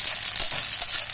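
Garlic, ginger and cumin paste sizzles steadily in a hot pan while being stirred, with a constant bright hiss and a few faint scraping touches, no voices.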